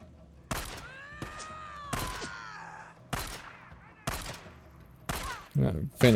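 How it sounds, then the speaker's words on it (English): Pistol shots ring out during a shootout in the Days Gone video game, a handful of sharp reports spaced roughly a second apart with ringing tails, mixed with groans and in-game sounds. "I just shot this girl 4 or 5 times."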